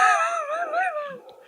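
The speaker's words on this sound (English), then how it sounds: "My dogs are losing their shit." Several dogs howl together in long, wavering, overlapping tones that rise and fall, loud and close, with no talking over them.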